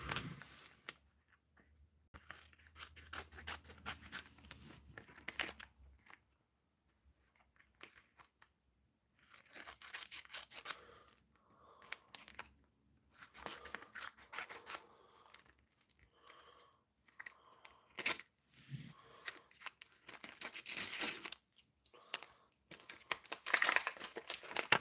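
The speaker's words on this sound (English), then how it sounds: "I'll just get my trusty scissors." Scissors snip and cut through sticker sheets and packets in irregular bursts, mixed with crinkling and tearing of plastic packaging, close and fairly quiet with pauses between actions.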